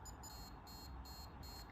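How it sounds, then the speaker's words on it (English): A game timer in a binary matching game beeps electronically in a short, regular series of high, bright tones over a steady background hiss, with no talking. "it will beep faster and faster"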